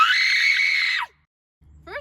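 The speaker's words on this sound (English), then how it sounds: "you want to scream from your diaphragm or from your stomach" One person lets out a loud, sustained scream pushed from the diaphragm, held for about a second before cutting off abruptly, followed by silence and then the start of a voice.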